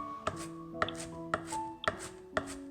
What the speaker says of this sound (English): I like chopping it a little smaller.